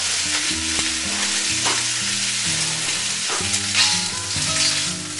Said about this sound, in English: So now the wok is hot again, and we're going to toss the shrimp back into the wok.